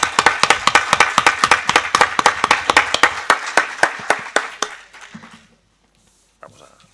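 A small lecture audience claps for the speaker in sharp, distinct, fairly rhythmic hand claps that thin out and stop after about five seconds, followed by near silence and a brief faint sound.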